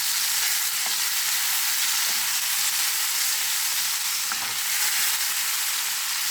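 Meatballs fry in a pan with a loud, steady, close sizzle that holds evenly throughout, without speech.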